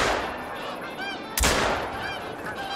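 Goose-like honking calls from waterfowl in theHunter: Call of the Wild on the Revontuli Coast, repeated over a dense layer of bird chatter, broken by one sharp, loud gunshot midway.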